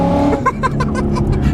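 Exhaust of a 2016 Ford Mustang GT with a Whipple supercharger, long tube headers and an aftermarket exhaust, loud and close, a deep idle rumble with a few short sharp revs.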